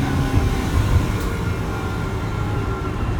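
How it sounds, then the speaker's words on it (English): A Ford Transit AWD van with an EcoBoost engine runs steadily, its low, dense drone and road rumble holding constant and fairly loud throughout, with no talk over it. "I love the sound of that EcoBoost."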